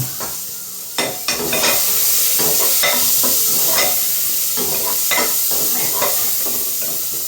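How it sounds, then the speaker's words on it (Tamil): Fenugreek seeds sizzle and crackle steadily in hot oil for a bitter gourd curry, with sharp popping bursts and occasional stirring scrapes over a continuous close frying hiss, no talk. "ரெண்டு வெந்தயம் போட்டுக்கலாம்"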